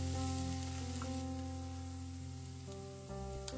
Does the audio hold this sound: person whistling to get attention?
no